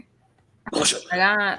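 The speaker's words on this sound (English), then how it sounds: "That was a sneeze." A sneeze bursts out once at close range in a dusty indoor spot, a sharp noisy burst followed by a drawn-out voiced tail, with a spoken word just before it.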